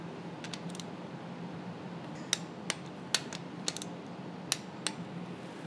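A wrench tightening the bolts of a high-pressure fuel pump gives a scattering of sharp metallic clicks and ticks over a low, steady background hum, with about a dozen crisp clicks spread unevenly, mostly in the second half.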